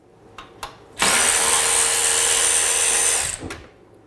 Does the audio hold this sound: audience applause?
no